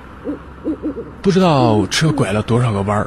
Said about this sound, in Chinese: 有时候还能听到从山村的树上传来的猫头鹰的叫声。